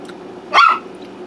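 A pet dog gives a single short, sharp bark close by in a home kitchen, otherwise quiet.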